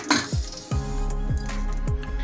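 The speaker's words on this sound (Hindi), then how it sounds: "तो देखिए कुकर का ढक्कन इस तरह से मैं लगा देती हूँ" Metal pressure cooker lid set onto the pot while baking an eggless chocolate cake in a cooker: a sharp clink followed by several close, repeated metallic knocks and scrapes as the lid is seated.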